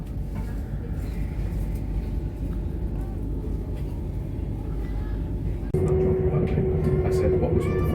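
Train departing Preston toward Blackpool, heard from inside a carriage as a steady rumble that grows louder and steadier partway through, with people talking over it.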